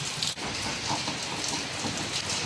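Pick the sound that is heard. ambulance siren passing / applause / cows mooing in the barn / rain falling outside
rain falling outside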